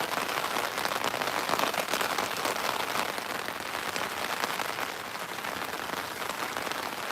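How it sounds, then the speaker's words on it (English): Heavy rain pours steadily at a Norfolk Broads staithe during coarse pole fishing, a dense continuous hiss of drops hammering surfaces close by, constant and loud with no voices. "Probably struggling to hear me talk now with this rain like this"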